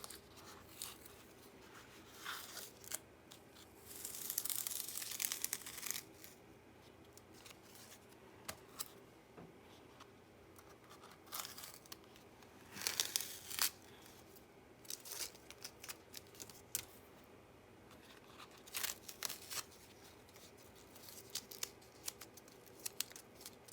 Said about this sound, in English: I'm going to now take away my tapes and expose our